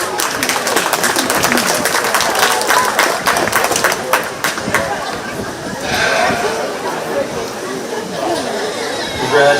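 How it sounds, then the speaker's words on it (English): A crowd claps and chatters at a county fair 4-H/FFA purebred sheep show, with scattered applause under steady talk and occasional sheep noise in the arena. "Let's give that young lady a big round of applause."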